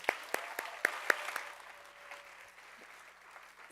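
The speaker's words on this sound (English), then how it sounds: "let's give all of our alum groups featured here tonight another big round of applause" Audience applause at a charity challenge finals event, a burst of dense clapping in the first second or so that thins quickly and fades to a quiet, sparse patter.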